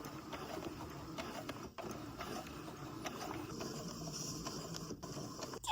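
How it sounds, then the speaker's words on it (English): A sewing machine stitches through fabric and wood with a faint, continuous mechanical chatter and a few small knocks, and no voices. "now I'm gonna try and not sew through wood again"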